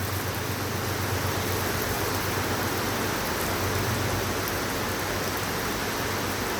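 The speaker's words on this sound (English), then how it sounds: "We do have some rain." Steady, dense rain pours down during a night thunderstorm in southeastern Pennsylvania, forming a constant broadband hiss with no gaps or voices.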